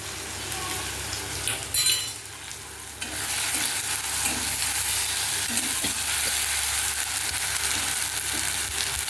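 A spice-water mixture of asafoetida and a pinch of sugar hits a hot pan for matar dal, setting off a loud, steady sizzle after a brief clink and stir, continuing strongly to the end.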